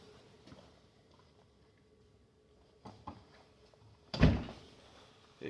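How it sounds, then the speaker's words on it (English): A door swings shut with a solid thump in a chilly workshop, one loud impact near the end after a few faint knocks and creaks over quiet background. "It's kind of chilly. I had to shut the door."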